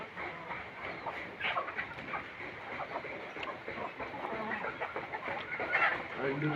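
Hens cluck and chatter softly in a continuous farmyard murmur, with a voice or two mixed in faintly.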